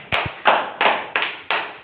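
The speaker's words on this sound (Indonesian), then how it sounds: "Kita beri tepuk tangan buat teman kita." A handful of people clap in a classroom, five or six sharp, evenly spaced claps close to the microphone, with no talk over them.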